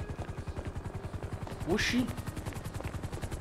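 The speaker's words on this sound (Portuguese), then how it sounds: "Que barulho de helicóptero é esse, velho?" A helicopter landing on a street in the video game GTA V makes a rapid, steady rotor thumping, moderately close, while a man briefly exclaims over it.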